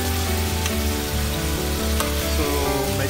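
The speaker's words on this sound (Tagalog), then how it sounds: "Takloban muna natin ang ating chicken na piniprito para medyo ma-steam siya." Chicken pieces frying in a covered pan for adobo, a steady dense sizzle close and loud throughout with small pops and crackles, no talk.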